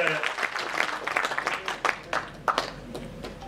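A crowd at a political party convention in Mumbai claps to welcome the organizers, giving scattered, uneven applause with murmuring voices underneath.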